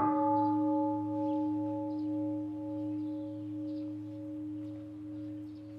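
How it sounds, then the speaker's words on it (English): A single bell is struck once during a holiday retreat orientation, then rings on alone in a clear, sustained tone that fades slowly over several seconds. "Let us hear one more sound, the bell,"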